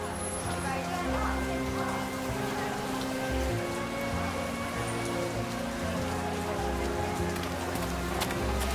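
Rain falls on a neon-lit street in the video game World of Goo 2, a constant close hiss of drops under steady humming game music and tones, with no pauses.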